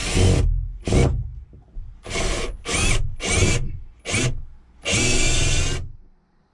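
A power drill drives a screw into wood in a camper van conversion, in a series of short loud whirring bursts with brief pauses between them and one longer final run.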